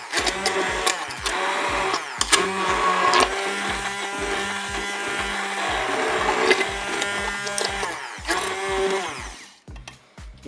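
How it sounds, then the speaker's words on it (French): Cooked potatoes are blended into purée in a Cookeo with a hand mixer, a loud, continuous whirring motor drone that runs steadily for several seconds before cutting off. "Je vais maintenant mixer mes pommes de terre."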